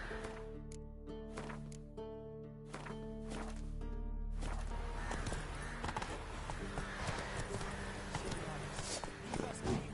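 In The Witcher 3: Blood and Wine, a horse sets off at its rider's command, hooves clopping in a quickening rhythm close by, mixed with game sounds and voices talking.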